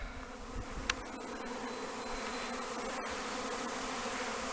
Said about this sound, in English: The hive I least suspected of swarming is doing that right now.